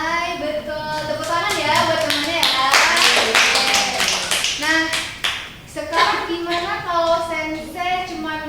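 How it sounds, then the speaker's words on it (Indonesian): Students in a Japanese-language micro-teaching classroom clap for a classmate, a short burst of hand claps mixed with children's voices and talk, the clapping overlapping speech before the teacher continues. "Tepuk tangan ya buat temannya ya"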